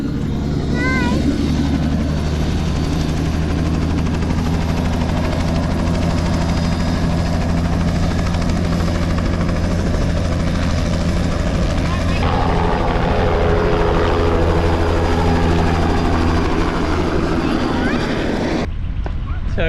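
Helicopter taking off and flying away in the outback, a loud steady rotor and engine roar close by that shifts as it lifts and departs, then cuts off near the end.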